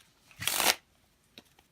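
Playing cards are riffle-shuffled once in a short, crisp burst up close, followed by a faint tap or two as the deck settles.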